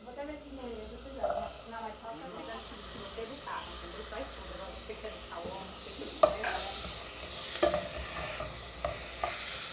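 Chopped onion and bell pepper sauté in a pan with a soft, continuous hiss and scattered stirring clicks, while a voice talks over the cooking in the first few seconds.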